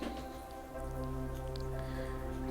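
Cumin seeds and onion frying in a pan for pav bhaji, with a steady sizzle and crackle that builds after a brief softer start and stays loud and continuous to the end.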